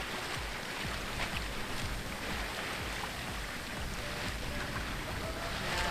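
A sailboat moving through a breeze on calm seas, with a steady broad wash of water and wind rushing past the hull, continuous and fairly close, with no voices.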